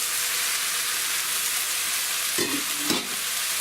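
Mushroom vegetable fried rice sizzles steadily in a covered pan, and a short clatter of the lid being lifted comes near the end, with the frying hiss continuing alone throughout.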